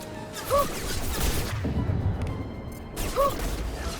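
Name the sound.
gunfire, friendly fire, from video game Mass Effect 2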